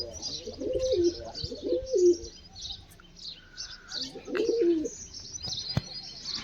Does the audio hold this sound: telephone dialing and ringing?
no